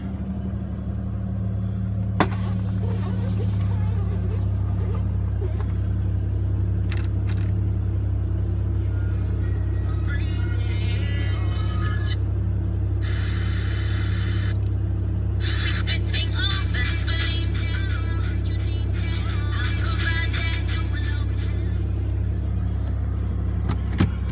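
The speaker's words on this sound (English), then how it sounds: "Vehicle starts right up, no problems whatsoever." A lifted Toyota Tacoma 4x4 engine runs steadily after a cold start, a constant low rumbling idle with faint clicks and rattles from handling nearby, recorded up close without speech.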